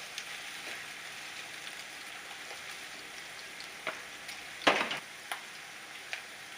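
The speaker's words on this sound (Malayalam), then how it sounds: "സവാള നല്ല ബ്രൗൺ കളർ ആവുന്നത് വരെ ഫ്രൈ ചെയ്തെടുക്കണം." Onions fry in hot oil in a pan while cooking paneer biryani, giving a soft, steady sizzle with a few sharper crackles and pops near the middle, quiet and close with no talking.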